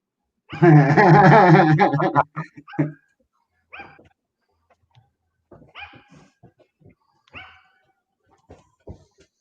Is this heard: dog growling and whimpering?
yes